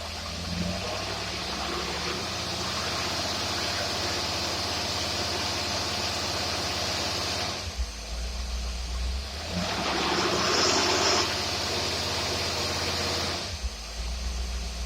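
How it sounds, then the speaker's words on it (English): Engine running on a dynamometer, a steady loud drone with low rumble that holds evenly, dips briefly twice and swells in the middle, with no talking. "Now we're going to turn the dyno on, and we're going to run it there."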